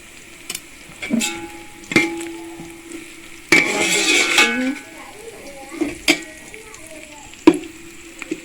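Golden onions fry in a pan for chicken palao, a crackling sizzle broken by repeated clanks and scrapes of a utensil against the pan, close and fairly loud.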